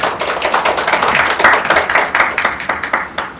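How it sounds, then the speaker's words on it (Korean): Audience applause at a Gwangju paper-pack recycling forum, with steady rapid hand clapping that holds up through the clip at fairly close range and pulses rhythmically before thinning slightly at the end. "자, 큰 박수 한번 주세요."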